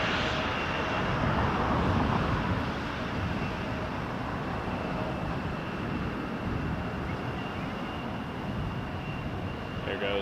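A Boeing 777 airliner passing at Toronto Pearson Airport, a broad steady jet engine roar that stays loud and even throughout with a faint high whine on top.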